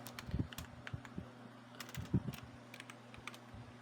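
A computer keyboard is typed on at close range in soft, irregular runs of light clicks with brief pauses, set against a faint steady background hum.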